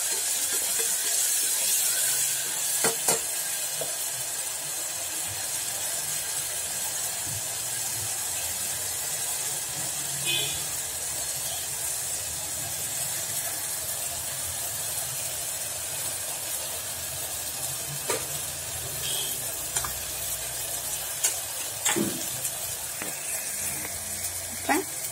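Ginger paste sautéing in a pan gives a continuous soft sizzling hiss with occasional crackles and spatters, steady and close throughout, with faint background voices at times.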